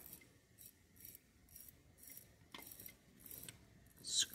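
Small ratcheting clicks in an even series as the crown of a Seiko SRP309 Orange Monster watch is screwed down, faint and close, with a brief rub and a sharper click toward the end.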